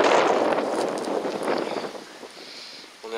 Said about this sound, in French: On est en plein dans le vent